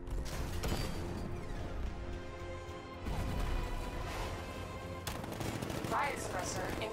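Dense rapid gunfire from the Batmobile's riot suppressor in Batman: Arkham Knight, bursts with mechanical clanks and crashes, loud and continuous, mixed with game sound effects and some voices.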